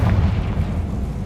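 A Confringo blasting spell bursts in Hogwarts Legacy, a dense low rumbling blast that holds steady and loud through the whole short moment with no voices over it.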